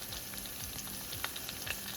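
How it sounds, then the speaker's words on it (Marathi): Green chilies frying in hot oil for a tempering, a loud, close, dense sizzle with quick crackling pops throughout, and no speech. "हिरवी मिरची आहे ती चांगली तळली पाहिजे"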